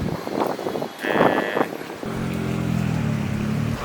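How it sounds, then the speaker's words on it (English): Gusty, cold wind buffeting the microphone in bursts outdoors in New York, followed by a steady low rumble like a passing vehicle; no one speaks. "It's windy as out here, yo."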